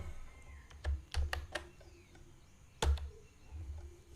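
Fingers type a captcha code on a computer keyboard in a few quick, soft clicking bursts and single taps, close but quiet, with a faint room hum between keystrokes.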